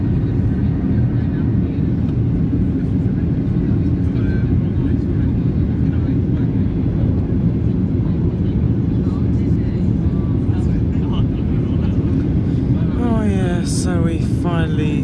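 Inside the cabin of a Ryanair Boeing 737-8AS during climb out of London Stansted, a steady loud engine roar and air rush fills the whole stretch, with faint chimes or tones near the end.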